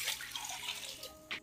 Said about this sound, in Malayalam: അത് നമുക്ക് ഈ കുക്കറിലോട്ട് ഇട്ട് കൊടുത്ത് ഇത് വേകാനുള്ള വെള്ളം കൂടെ ഒഴിച്ചു കൊടുക്കാം